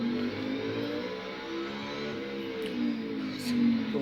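A NASCAR Cup race car engine at the Busch Light Clash drones and revs steadily with shifting pitch, heard from a bumper camera on the car, loud and continuous with no voices.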